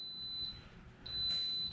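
An Instant Pot set to high-pressure cooking gives a thin, steady electronic beep, a long tone that pauses and resumes, close and clear in a quiet kitchen.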